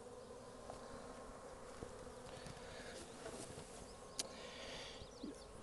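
Honey bees from a package colony buzz steadily around an opened hive during an inspection, a soft continuous hum with a few louder passes from bees flying near.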